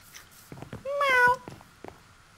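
A person's voice imitates a cat, giving one drawn-out, rising-then-falling meow up close, with brief murmurs before and after.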